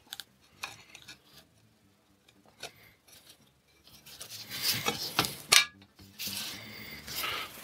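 Glass pane set into a homemade picture frame, giving a series of light clinks, taps and scraping contacts, sparse and faint at first, then busier and louder toward the end, close by with no speech.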